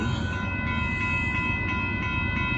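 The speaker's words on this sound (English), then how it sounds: "Here comes this hopper car train now." A Union Pacific hopper car freight train rumbles steadily past close by at Dittmar Road, Austin, Texas, a continuous heavy rolling drone with faint tonal ringing above it, no voices.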